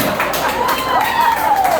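A comedy club crowd at a brewery clapping hard, a continuous, close and loud wash of applause and crowd noise, with a voice speaking over it.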